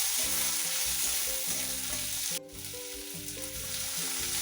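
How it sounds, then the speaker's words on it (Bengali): Chopped onions fry in a pan with a steady, close sizzling hiss that runs under quiet background music throughout. "পেঁয়াজ কুচিগুলো ভাজতে হবে যতক্ষণ না একটু লালচে কালার আসে"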